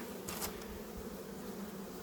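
Dense, continuous buzzing of many honey bees at close range, a steady droning hum filling the whole clip.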